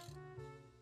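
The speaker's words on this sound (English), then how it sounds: "Gotta empty out my vacuum." The Poltergust vacuum being emptied in the video game Luigi's Mansion 3, a short steady mechanical whirring with a tonal hum and a slight shift midway, lasting under a second with no talk.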